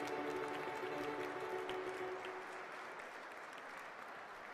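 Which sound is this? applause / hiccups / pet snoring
applause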